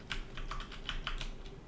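Computer keyboard keys pressed in a quick irregular burst of clicks, close and clear with no talking, while working in Unreal Engine 5.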